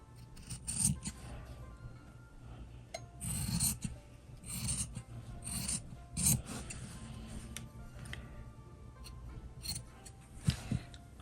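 Scissors trim around fabric pieces of a crossbody bag. Close, quiet snips and rasping cuts come in irregular bursts.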